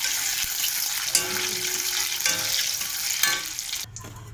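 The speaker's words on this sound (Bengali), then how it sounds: "এই পনিরগুলো দিয়ে দিলাম, হালকা করে ভাজবো।" Pieces of paneer fry in hot oil with a loud, close sizzle and crackle, broken by occasional stirring scrapes and a clatter near the end.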